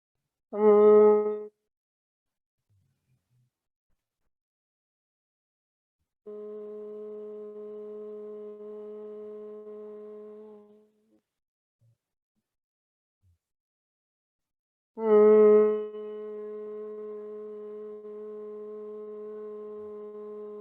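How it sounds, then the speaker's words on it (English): A person does humming bee-breath exhales during a hatha yoga session: a short loud hum, then after silence a long steady drone that fades out, then another sustained hum rising loud and holding steadily. "take 2 more buzzing bee breaths"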